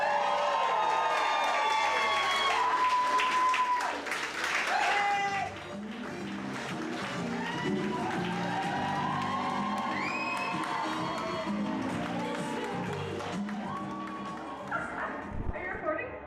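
Wedding guests cheer, whoop and applaud together in a lively outdoor crowd, a steady wash of clapping and shouts lasting throughout, with voices calling out over it.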